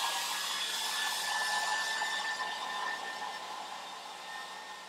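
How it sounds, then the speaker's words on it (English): A handheld hair dryer blows steadily and close while hair is being dried, a continuous airy whoosh that fades slightly toward the end. "then we're just going to finish up blow drying our hair"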